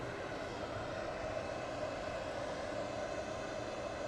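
A Jet2 airliner takes off at Manchester Airport, its engines a steady, broad roar held at even loudness throughout, with no voices over it.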